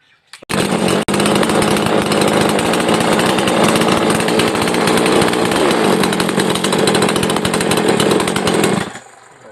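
A chainsaw engine runs loud and steady at close range, a continuous rough buzz that stops abruptly at the end.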